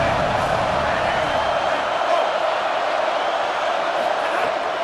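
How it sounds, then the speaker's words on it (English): Stadium crowd roaring and cheering for the defense on third down in the EA Sports College Football 27 video game, a loud, steady wall of noise sustained throughout with no break. "Decibels rising as the crowd gets behind this defense on 3rd down."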